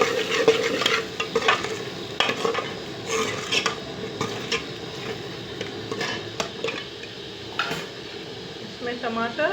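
A spoon stirs red chilli powder and salt through tinda masala in a pan, a steady scraping and clinking of metal against the pot over a soft sizzle, continuous throughout.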